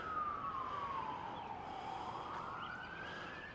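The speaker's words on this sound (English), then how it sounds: "Heard a lot of fire trucks today." A faint, distant fire truck siren wails, sliding down and then back up in pitch, with steady background hiss and no talking.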